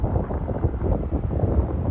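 Gusty wind sweeps across an open flying field under a gray sky, a steady low rumble buffeting the microphone with no voices.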